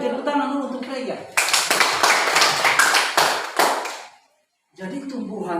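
Classroom clapping during a lesson, a short burst of close, loud claps from a group that lasts a few seconds, then stops abruptly, with a voice talking before and after.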